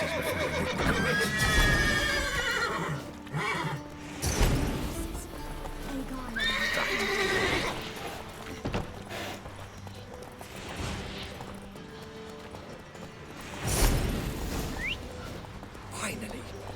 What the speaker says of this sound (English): Gotta calm all the horses before they make the noise.